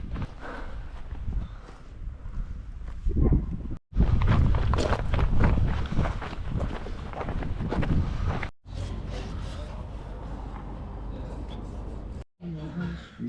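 Gusty westerly wind on the gritstone moorland edge of Stanage Edge in the Peak District in wet winter weather, roaring and buffeting the microphone in loud broadband surges with brief drops to near quiet.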